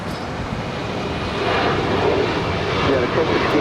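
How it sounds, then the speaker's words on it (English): A United 737-900 ER airliner departing for Chicago O'Hare roars steadily at an airport, a dense engine wash that grows louder midway and holds. "And here's United 1069 heading to Chicago O'Hare."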